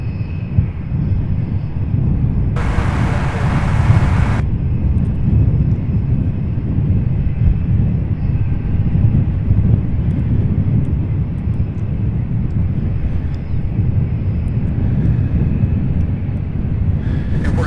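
A UPS Boeing 767 freighter taxis at an airport, its jet engines giving a steady loud rumble and whine from fairly close, with a brief burst of broadband noise early on and no talking.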